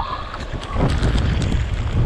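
Strong storm wind gusting hard against the microphone, a loud, rough roar that rises midway and stays heavy until the end.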